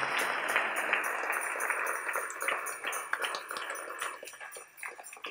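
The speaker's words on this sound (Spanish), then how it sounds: "Dale un aplauso al Rey con todo tu corazón en esta hermosa y linda tarde" A church congregation claps for the King during an afternoon service, a continuous spread of many hands that slowly thins toward the end with no talk.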